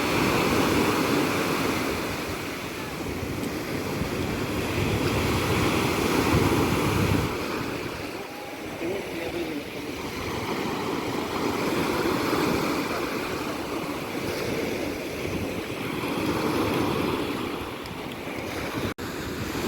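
Steady wash of Black Sea surf rolling onto a beach in Odesa, waves swelling and receding in broad surges with some wind noise over the microphone.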